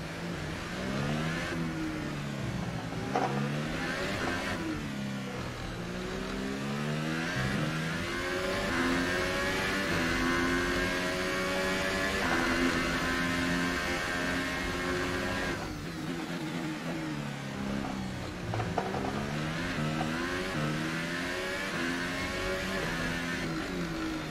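A McLaren Formula 1 car engine in F1 2018 at Monaco, sounding rough and broken, revs up and down repeatedly with rising and falling whines as it accelerates and brakes through corners, loud and continuous.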